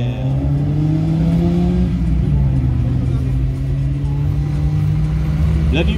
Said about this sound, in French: La numéro 40 pour cette Porsche 928 S4.